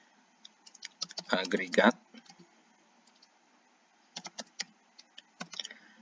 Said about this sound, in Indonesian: Langsung saja kita ketikkan rumusnya ya.